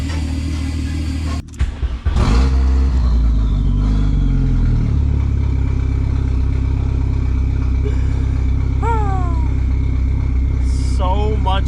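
A VW Golf 3 with a swapped 1.8T turbo engine cranks, fires and settles into a loud, close, steady idle with a rough, rumbling tone, and a few brief whirring spikes come near the end.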